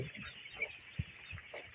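Faint, scattered low clucks from broiler chicks with pneumonia nearby, over a steady background hum, a few short calls spread across the moment.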